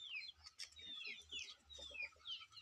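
Village hens and their new chicks cluck and peep close by: soft low clucks mix with repeated high, thin chick cheeps over a quiet background, and nobody speaks.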